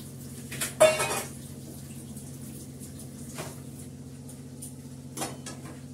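Pointed gourds are lifted from a cooking pan into a bowl with a sharp clatter of metal utensil against pan, followed by a few softer scraping clinks in a quiet kitchen.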